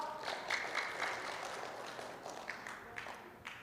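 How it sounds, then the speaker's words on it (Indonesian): Applause at a health event for blood donors, modest and fairly distant, from a smaller crowd clapping with a few distinct individual claps poking out as it thins toward the end. "tepuk tangan dong."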